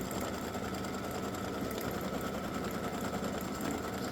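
A computerized embroidery sewing machine stitches top detail onto a patch, humming in a steady, continuous whir with fast needle rhythm throughout, close and alone.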